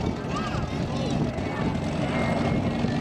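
The Avro Vulcan bomber XH558 roars steadily overhead during its last air display at Duxford, a loud continuous jet rumble that holds without a break.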